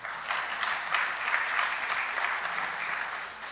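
Studio audience at a televised interview program applauding as a guest enters, producing a steady, full wash of clapping that holds throughout with no break.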